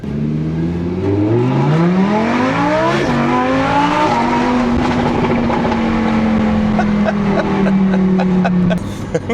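A Lamborghini Huracán pulls away in sport mode, its engine note climbing sharply through rising revs and gear changes before settling into a loud, steady drone close by.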